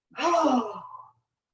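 One audible exhale during a yoga stretch, a single close, sighing release of breath lasting about a second before falling silent.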